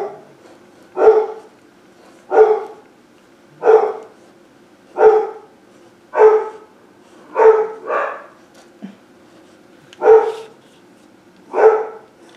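A dog barks repeatedly at a steady pace, about nine loud, close barks with short quiet gaps between them and no talking.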